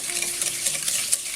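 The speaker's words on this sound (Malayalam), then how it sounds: "ഇനി ഈ മുട്ടയും പഞ്ചസാരയും കൂടെ നന്നായിട്ടൊന്ന് മിക്സ് ചെയ്തിരിക്കണം." Egg and sugar are whisked together in a bowl for Kerala split cake, a quick, close, continuous scraping swish with small clinks of the utensil against the sides.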